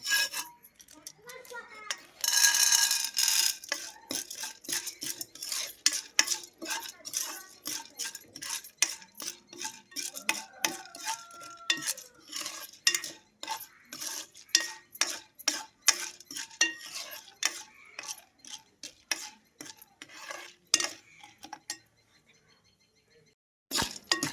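Popcorn kernels are stirred in oil with turmeric and salt in a pot, making rapid, rhythmic metal-on-metal scraping strokes close up, with a short louder sizzle burst near the start.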